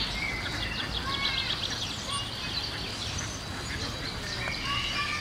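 Outdoor birdsong with bursts of high chirping and whistled trills, heard over a continuous bed of low ambient rumble and mixed noise.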